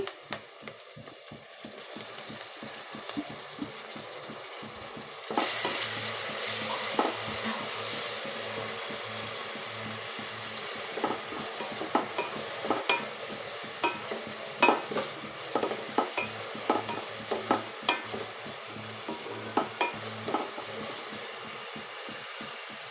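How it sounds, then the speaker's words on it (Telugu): Tomato pieces sizzle in hot oil for a chicken curry, with a low steady fry under repeated scraping and clattering stirs of a spoon against the pan, close and with no talking. "టమాటా ముక్కలండి, అవి కూడా వేసుకొని ఫ్రై చేసుకోవాలండి"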